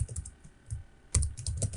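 Keys tapped on a computer keyboard while a file name is entered, a brief run of light clicks, a short pause, then a faster burst of typing, close and fairly quiet.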